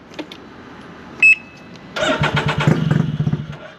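A Can-Am Ryker with an anti-theft fuel cutoff cranks and catches after a short beep, its engine firing in a fast, close, rhythmic chug that pulses steadily until the end.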